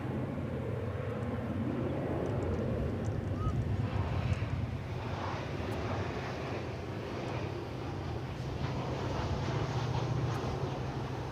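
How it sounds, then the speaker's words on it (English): An American Airlines airliner arriving from San Jose comes in to land at DFW Airport, its engines a steady, broad roar heard from a distance outdoors with light wind noise. "So here comes the American Airlines flight from San Jose."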